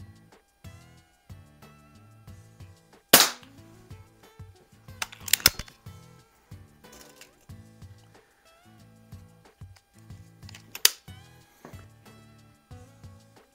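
Ruger Mark 4 .177 pellet pistol by Umarex fired outdoors on a snowy night, giving three sharp, loud cracks spread across the clip against a quiet background with faint low hum.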